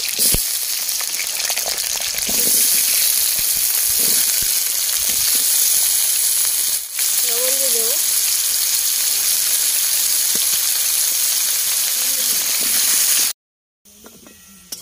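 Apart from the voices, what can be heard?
potatoes frying in a wok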